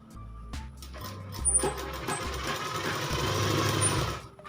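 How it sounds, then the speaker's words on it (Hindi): A sewing machine stitches around the neckline of a top, its motor whirring close and steady in short bursts that stop and restart before one longer continuous run. "पूरे गले में ऐसे ही घुमा देंगे सिलाई।"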